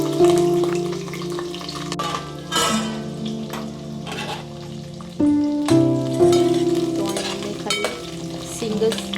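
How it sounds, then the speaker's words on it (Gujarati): Peanuts roasting in hot oil in a pan, a continuous close sizzle with occasional stirring scrapes and bursts of crackle, no talk over it. "તો અહીંયા મેં ખાલી સિંગ જ તેલમાં શેકવા માટે નાખી છે."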